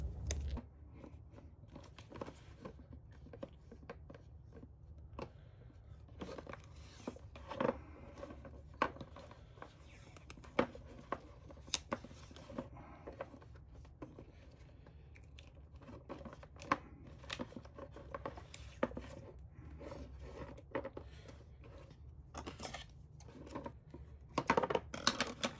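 Duct tape is pulled and pressed on to hold pieces of a PVC hydroponics tower in place: quiet, close, irregular crackles and short rips scattered over a long, otherwise hushed stretch.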